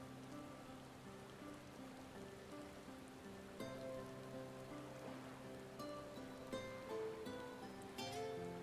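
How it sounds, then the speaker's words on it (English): Steady rain pours down in a constant hiss in the video game Final Fantasy XIV, with soft tonal music playing underneath and a few brief chimes near the end. "we're having a nice rest in the pouring rain."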